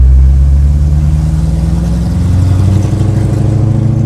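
A Ford GT's engine revs loud and close in second gear during a U-turn on a closed street. It produces a steady, deep, throaty drone whose pitch shifts slightly as the car labors, with no talking.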